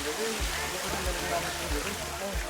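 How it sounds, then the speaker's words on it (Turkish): Broadband rushing water from a series of cascading waterfalls near stone stairs at Sinop, Turkey, a steady close roar with low thumps throughout, with no speech. "Burası ilk şelale olan 28 tane takım şelalesi"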